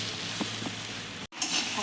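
Beaten eggs sizzle and are stirred and broken up in a hot pan over high heat for egg fried rice: close frying hiss with soft scraping strokes and a brief pause near the end.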